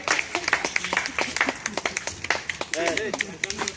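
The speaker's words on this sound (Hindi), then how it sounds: "ताली ताली" A group of people clap in quick, uneven bursts of sharp slaps while voices talk and call out over them.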